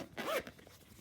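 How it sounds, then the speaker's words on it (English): A Venom controller carrying case is zipped shut in one quick, close rasping pull lasting under half a second, followed by quiet. "So zip it up and give it a shake."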